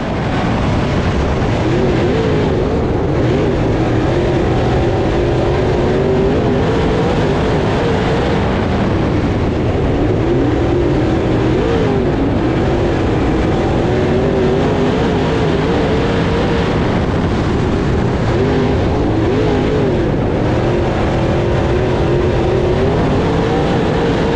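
Race cars circling a dirt oval at Swainsboro Raceway at night, a continuous loud roar of several engines with rising and falling pitch as they pass through the corners and straights.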